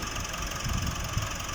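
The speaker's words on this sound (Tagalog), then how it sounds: "patuloy na umandar yung sakyan" A Nissan NV350 Urvan van engine with a P0234 low-power fault runs steadily at idle, a low rumbling drone with faint irregular knocks, close by and alone.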